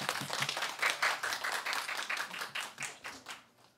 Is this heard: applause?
yes